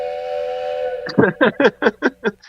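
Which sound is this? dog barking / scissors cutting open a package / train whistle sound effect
train whistle sound effect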